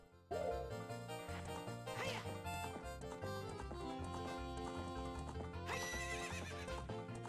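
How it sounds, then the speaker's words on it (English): Horse in The Legend of Zelda: Ocarina of Time neighs loudly while hooves clip-clop in a steady rhythm, with game music playing throughout. "Just doing a bit of horse riding"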